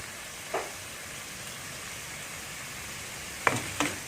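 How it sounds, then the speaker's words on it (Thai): Chicken stir-fried with holy basil and bamboo shoots crackles in a pan, a steady soft sizzle with three brief louder scrapes of stirring, no voices. "ผัดต่อเลยครับ"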